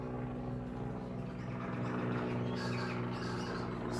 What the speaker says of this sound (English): Oh, there's a helicopter. Can anyone hear that? Crikey, that's loud.